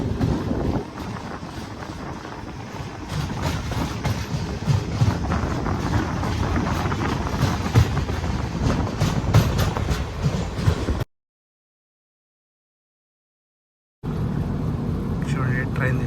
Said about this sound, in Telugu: చూడండి ట్రైన్ ఫుల్ వ్యూ.